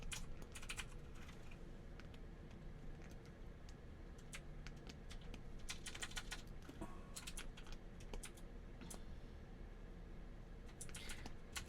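Quiet, steady typing on a computer keyboard, with irregular bursts of soft key clacks close by against a low background hiss.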